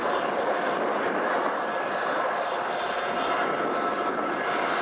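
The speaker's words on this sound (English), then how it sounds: "The rear-end distributed power units now pass our location in Greenland." Rear distributed power units of a BNSF freight train pass at close range on Colorado's Joint Line at Greenland, including SD70ACe 9125 and GE ES44AC 6269, giving a steady loud roar with no breaks.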